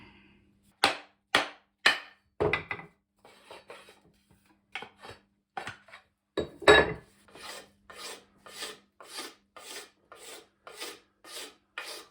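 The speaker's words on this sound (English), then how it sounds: "So now I'm just gonna scrape off the handle a little bit. and make it nice to the touch." A working knife scrapes along a handmade ash wood axe handle for a Rinaldi Calabria axe, producing a series of sharp, close rasping strokes that settle into an even, steady rhythm.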